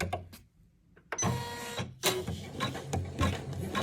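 A Janome 500e embroidery machine stitches out a gnome ornament in the hoop, giving short mechanical bursts of whirring and clatter after a brief quiet start, close and moderately loud.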